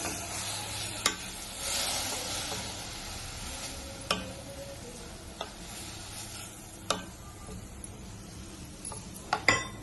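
Grated coconut, milk and milk powder are stirred in a pan for coconut barfi: a soft continuous sizzle runs underneath, with sharp spoon taps against the pan at irregular intervals and no voice.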